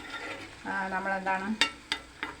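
Onions frying in oil for a homemade hair oil, a soft bubbling sizzle in a pan followed by several sharp utensil scrapes and clinks from stirring, close and fairly quiet.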